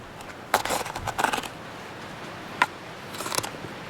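A SOG Creed knife slicing through fire truck water hose rubber, heard as a few short, close bursts of gritty scraping and cutting, separated by quiet pauses.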